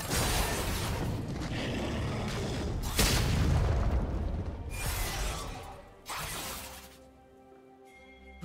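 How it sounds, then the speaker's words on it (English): A turret being destroyed in League of Legends: a heavy boom with shattering crumble, a second big crash, then a third impact before the rubble settles into a fading tonal ring. "Red team's turret has been destroyed."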